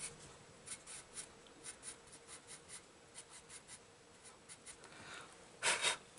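Coloured pencil rubbing across paper in an adult colouring book: soft, rhythmic scratchy strokes, close and quiet, ending in a brief louder flurry of scribbling, with no speech.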